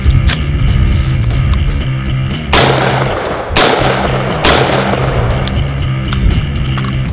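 Three 5.56 light armor penetrating rounds are fired at AR500 body armor, producing loud, sharp gunshots spaced about a second apart over a steady outdoor background rumble.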